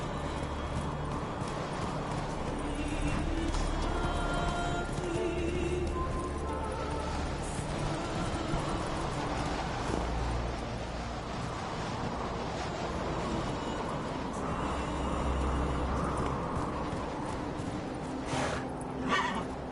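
Roach, Geralt's horse in The Witcher 3, galloping with steady rhythmic hoofbeats and letting out a neigh, heard over wind and outdoor game ambience with a voice briefly urging the horse on.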